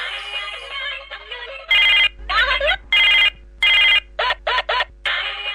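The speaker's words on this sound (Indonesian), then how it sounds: "Saha sih nelponan bae yo?" A mobile phone ringtone plays a melodic tune in repeated loud bursts with short gaps, following a quieter stretch of the same ring.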